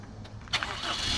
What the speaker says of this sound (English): So I'm going to start our vehicle.